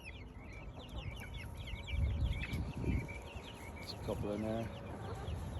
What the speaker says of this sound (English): I see my little quails are calling me